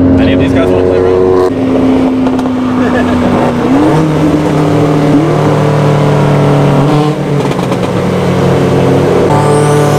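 A car engine climbs steadily in pitch as it accelerates through several gear shifts, loud and close, with people talking over it.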